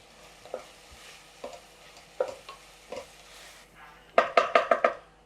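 Tomatoes cooking with salt and turmeric in a pan for a black chickpea curry: a soft low sizzle broken by separate spoon scrapes, ending in a quick run of five louder metallic clinks against the pan.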